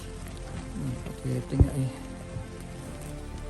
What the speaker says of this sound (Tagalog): Malakas ang ulan, malakas pa yung hangin.